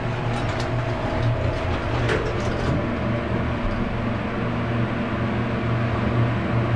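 A ThyssenKrupp hydraulic elevator in a college building in Colorado Springs runs with a steady low hum and rumble, constant and fairly loud throughout, with a few faint clicks near the start.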